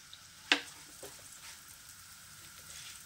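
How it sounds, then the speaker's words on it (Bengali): Flattened rice goes into hot oil in a pan with a sharp clatter, followed by a soft, fairly quiet steady sizzle and crackle close by. "এই এক বাটি চিড়ে এখানে ভেজে নেব"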